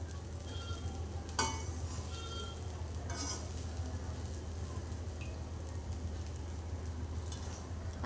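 Rice for tawa pulao being stirred and mixed on a hot pan, a continuous low sizzle with a couple of sharp utensil scrapes and clinks, faint and close.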